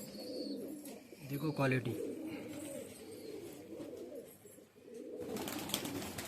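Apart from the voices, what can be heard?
pigeons cooing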